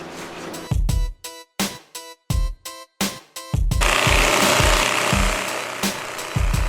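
A straight line sander works Bondo body filler on a car fender: several short bursts of rough rhythmic rasping, then one long continuous sanding pass, loud and close.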